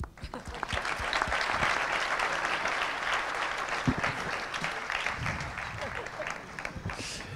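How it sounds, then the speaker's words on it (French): An audience at an agricultural conference breaks into sustained applause, dense clapping that holds steady for several seconds before thinning slightly toward the end. "On peut l'applaudir."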